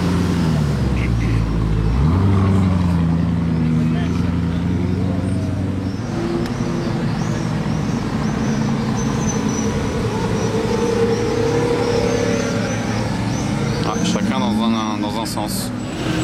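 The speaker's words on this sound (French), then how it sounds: "le combo de Lambo quitte les lieux" Several Lamborghinis, among them a Revuelto, pull away from a car meet with a loud engine roar that sustains for many seconds and then recedes, mixed with crowd noise and people talking.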